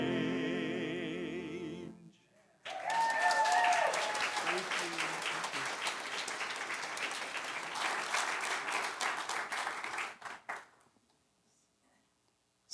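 A church congregation breaks into sustained clapping after a worship song ends, the applause rising quickly, holding for several seconds with some talk mixed in, then fading out into quiet.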